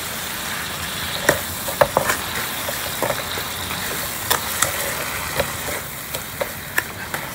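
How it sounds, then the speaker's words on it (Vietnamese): Minced shrimp and mung beans stir-frying in a pan for Mekong-style bánh khọt filling, a steady low sizzle with scattered sharp clicks of a utensil against the pan, no talk. "mình làm bằng tôm bằm nhuyễn rồi mình xào chung với đậu xanh á"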